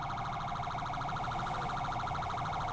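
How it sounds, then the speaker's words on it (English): A police car siren from the GTA 5 police mod wails in a steady, fast repeating cycle that holds at constant loudness throughout, with no speech over it. "once they move, you know, that siren is gonna go off"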